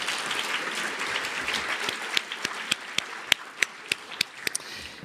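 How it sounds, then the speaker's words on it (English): An audience at a literary awards ceremony in New York breaks into steady applause, a dense wash of clapping with several sharp, distinct nearby claps standing out in the second half. "I think a round of applause is in order."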